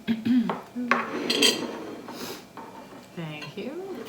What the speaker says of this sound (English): Cut through the pan.